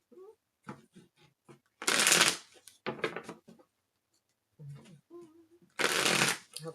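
A Barbieri Tarot deck is shuffled close by in two brisk, riffling bursts, with soft speech and small handling sounds in between.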